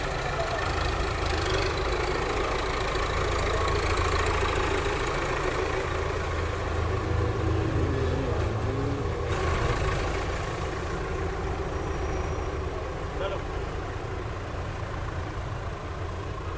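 A New Holland 850 tractor engine idles steadily at close range, a continuous low rumble that holds even and unbroken throughout, with a brief faint shift in tone partway through.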